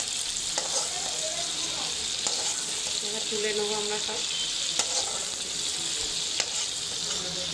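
Large prawns fry in hot oil, giving a steady close crackling sizzle with occasional ladle scrapes and clinks, while someone speaks briefly over the frying.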